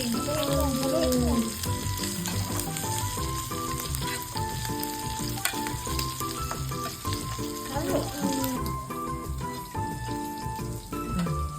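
Chopsuey stir-frying in a pan, a steady loud sizzle with scraping and stirring throughout, some watery bubbling under it and a few faint voices in the background.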